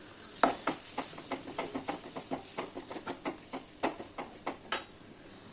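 Curry leaves sizzling in a pan of sambar being prepared for idli, a steady hiss broken by rhythmic stirring scrapes and small pops, at moderate volume.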